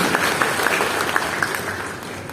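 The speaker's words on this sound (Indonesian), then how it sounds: "Tepuk tangan dulu yang meriah." Church congregation applauding during a sermon, a steady wash of clapping with a few sharper individual claps standing out.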